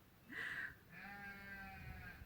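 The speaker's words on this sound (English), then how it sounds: "And yes, you might hear some sheep." Sheep bleating on a farm: one short, loud bleat followed by a longer, steadier bleat, with faint background noise and no talking.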